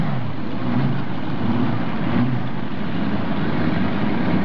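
A modified pulling tractor, the Mr. Twister, powered by three supercharged Chevrolet engines, rumbles steadily at close range with a dense low roar and a faint rise in the middle, no voices over it.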